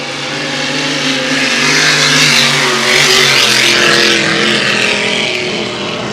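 Vintage racing boat roaring past on the Valleyfield race course, its engine a loud, steady, sustained drone that swells slightly mid-pass with broad spray-like hiss, no talk heard.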